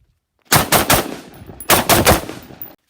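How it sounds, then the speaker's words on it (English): A handgun is fired at a target during a shooting drill, producing two close, loud bursts of rapid sharp shots about a second apart. Each burst holds three or four cracks, and the gunfire stands alone against silence. "we'll take some shots at the target that's right beside the camera"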